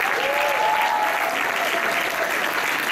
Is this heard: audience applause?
yes